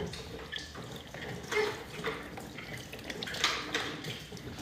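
Water flushes through the control valve of an iron-removal water filter system, a soft, fairly faint rush and splash with small gurgling bursts that rise and fall irregularly.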